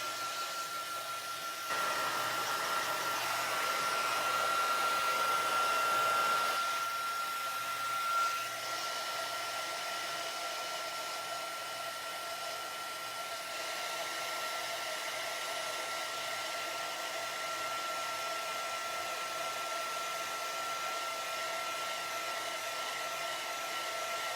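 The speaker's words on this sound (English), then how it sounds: "let's get this heat embossed" A heat gun blows continuously for heat embossing, giving a steady, even whoosh with a faint high whine that holds for about twenty seconds, with no talking.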